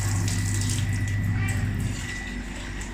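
Water pours steadily into a slow cooker along with canned soup, making a loud, continuous splashing flow close by over a low hum, with no clear speech.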